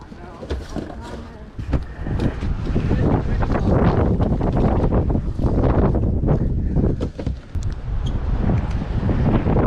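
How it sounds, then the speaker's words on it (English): Strong gusts of wind buffet the microphone outdoors, rumbling loudly and unevenly with brief lulls. "Sorry about this wind."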